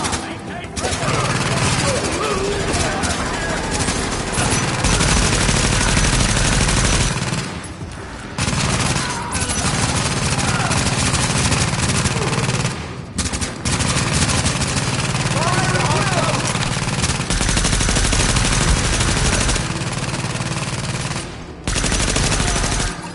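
Turret gunfire rattles in the video game The Division, with sustained loud automatic bursts broken by brief pauses, layered with battle noise and shouted voices.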